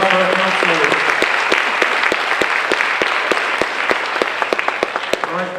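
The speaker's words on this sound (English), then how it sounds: "Round of applause for our counselors." An audience at a 12th-grade family information meeting applauds the school counselors with dense, steady clapping that fills the room for several seconds, with a few sharp individual claps standing out near the end.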